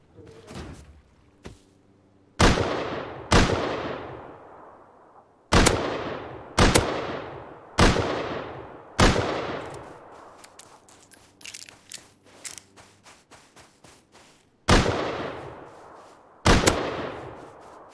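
Sharp gunshots in the video game Rust ring out in bursts, about a dozen loud cracks with ringing decay, some in quick pairs, separated by quieter pauses.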